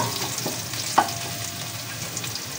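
Garlic sautés in a pan for bangus pesa, a soft continuous sizzle with light scraping stirs and one sharper utensil knock near the start.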